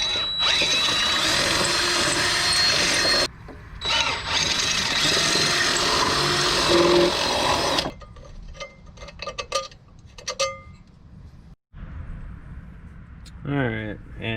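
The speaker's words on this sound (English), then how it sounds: "now I'm going to drill out the old holes" Electric drill boring out old holes on a 1986–87 Yamaha Moto-4 YFM225 ATV during a front brake cable swap, loud steady whine in bursts that stops midway, followed by quieter clicks and handling noises.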